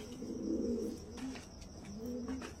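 Andhra pigeons released outdoors: soft low cooing in a few short phrases, faint, over light background chirping.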